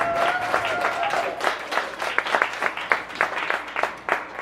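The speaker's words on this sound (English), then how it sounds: "so they deserve a round of applause" Audience applause at a poetry reading, a dense steady wash of many hands clapping throughout, with faint voices mixed in.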